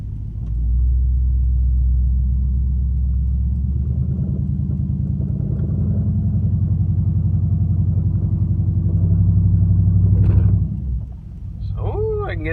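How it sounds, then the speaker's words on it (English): A 2007 Dodge Charger SRT8 engine, held on line lock, gives a loud, close, deep rumble that idles and revs steadily. A brief rise near the end is followed by a drop, and a voice comes in at the very end. "So I can get up to 1500 before it starts to push the car forward."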